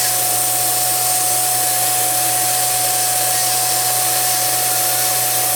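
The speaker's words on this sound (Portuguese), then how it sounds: "é uma rotina a gente passar essa broca no orifício" A drill bit spins steadily through a bolt hole during bolt loosening and torque work, giving an even, continuous motorized whine with a constant tone throughout and no voices.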